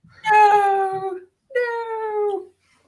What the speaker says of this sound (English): Stop torturing the kitty?